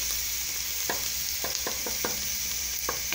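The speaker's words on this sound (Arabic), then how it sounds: "دلوقتي يا حبايبي حطينا سمنة بلدي اهي، وحطينا البصل والثوم" Onion and garlic frying in local ghee, a constant close sizzle broken by several sharp stirring scrapes of a spoon against the pan, with no voices.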